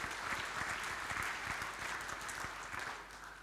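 A church congregation bursts into sustained, steady applause during Sunday worship, a dense wash of clapping that holds at an even level throughout, with no voice above it.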